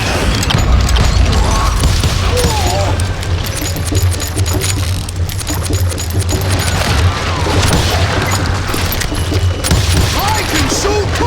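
Dense, continuous gunfire and explosions fill the Call of Juarez: Gunslinger battle, with rapid overlapping shots over a heavy low rumble for the whole stretch, loud and close, with a voice shouting in the mix.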